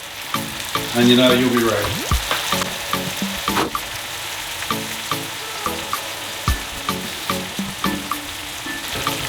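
Garlic chilli prawns sizzle and fry steadily in a pan, with repeated stirring scrapes and clinks over the crackle, and a voice speaks briefly.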